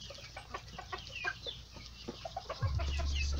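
An ornamental rooster clucks in a run of short, soft calls over a low steady hum in a poultry pen, with other birds faint in the background.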